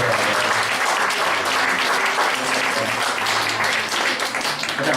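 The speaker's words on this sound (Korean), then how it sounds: "박수 한번 보여주세요." A church congregation claps loudly and steadily in a dense, continuous wash of applause that fills the room throughout, with no voices rising above it.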